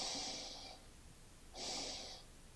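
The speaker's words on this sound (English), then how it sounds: "Double inhale. And exhale slow. Letting the breath fall out." Two soft, close breaths in a double-inhale breathing exercise, each a gentle airy rush lasting under a second, separated by a quiet pause and heard alone without talk.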